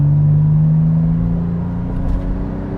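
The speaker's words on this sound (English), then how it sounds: "You can hear that engine working." A 2020 Toyota 4Runner TRD Pro engine hums and drones steadily from inside the cabin, with a low rumble as it accelerates onto a freeway.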